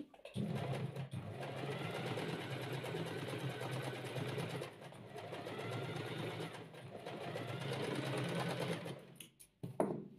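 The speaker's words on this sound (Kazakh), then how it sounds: "Машинканы қостым." A sewing machine stitches a straight seam, a steady close mechanical whirr running almost the whole time, with a brief pause near the middle and a stop at the end.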